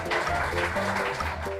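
Clapping from a crowd of onlookers at a village race, a steady burst of applause mixed with a low tonal background, moderately loud and continuous throughout.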